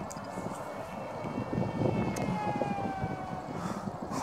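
A micro Estrellita F1 RC airplane flies at about half throttle, its small electric motor giving a continuous thin whine with a faint pitch drift over soft background noise.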